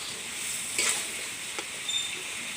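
Tomatoes sizzle and fry quietly in a pan of chicken curry with potatoes, with a few soft scrapes and stirs breaking the steady hiss.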